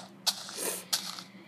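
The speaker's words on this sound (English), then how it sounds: "Sorry if I'm sneezing a lot because I have allergies." Three short sneezes from someone with allergies burst out close to the microphone, evenly spaced against a quiet background.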